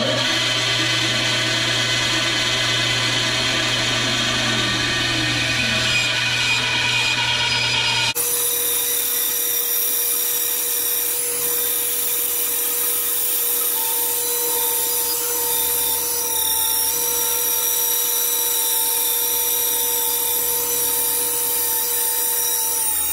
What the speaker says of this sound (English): I'm going to be putting my bandsaw to its max, but I have faith in my Rikon that we can make this corner